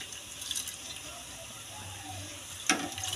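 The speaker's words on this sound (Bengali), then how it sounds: "চালটা দিয়ে দিচ্ছি।" Rice tipped into a pot of hot water with cardamom, cinnamon, cloves and bay leaves for a Gobindobhog rice hilsa biryani, a soft continuous watery hiss and bubbling, then a brief louder splash near the end.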